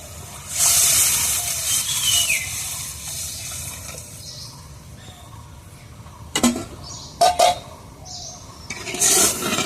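Water splashes into a pan of sizzling fried spice paste for bhindi posto, okra in poppy seed gravy, giving a steady hiss broken by a few sharp, loud bursts of spitting near the end.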